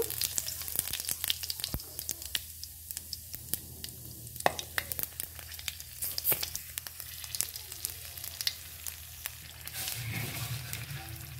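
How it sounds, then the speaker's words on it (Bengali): Cumin seeds and whole green and ripe red chilies crackle and sizzle in hot oil, a soft, continuous frying hiss scattered with sharp little pops, fairly quiet and with no talking. "জিরা ফোড়ন নিয়েছি আর দুটো কাঁচা পাকা লঙ্কা নিয়েছি। এবার তেলের মধ্যে দিয়ে দিব।"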